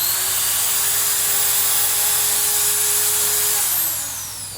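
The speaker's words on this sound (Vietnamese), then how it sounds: "Một chiếc máy thuộc tập đoàn Makita Manatech MT60 chạy rất là êm" Maktec MT60 10mm electric drill held at full trigger, a steady, close, high-pitched motor whine with no other sound, slowing and fading slightly near the end.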